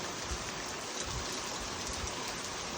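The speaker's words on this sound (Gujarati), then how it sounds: "સારામાં સારો વરસાદ છે" Steady rain falls over farmland as a continuous, even wash of drops. It is fairly faint, with no distinct single drops and no voices.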